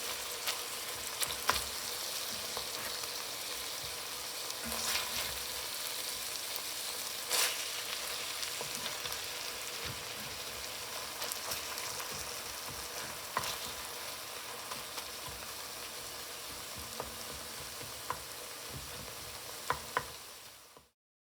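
Ground turkey browns in a hot pan with a steady sizzle, broken now and then by the scrape and clack of a spatula stirring; continuous and fairly close, with no voices.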